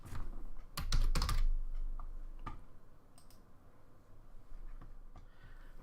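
Someone types on a computer keyboard in a few quick bursts of clicks, with one louder cluster near the start and sparse keystrokes after, close and quiet with no talk.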